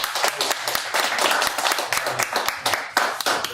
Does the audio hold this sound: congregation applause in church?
yes